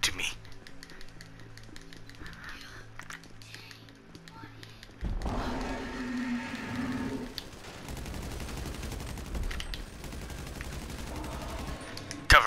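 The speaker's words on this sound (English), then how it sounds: "Cover fire has been delivered." Gunfire from a cover-fire attack in the video game GTA V, a loud burst of rapid shots with heavy low rumble starting midway and continuing to the end, following quieter game sounds.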